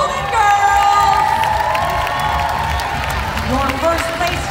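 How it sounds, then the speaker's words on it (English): Large crowd at a cheerleading competition cheering, shouting and clapping loudly for a team, a dense sustained roar with high children's screams and whoops, an announcer's amplified voice over it. "Cheer for Wolf Pack Golden Girls!"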